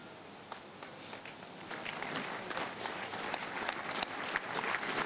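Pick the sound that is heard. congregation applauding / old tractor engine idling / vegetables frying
congregation applauding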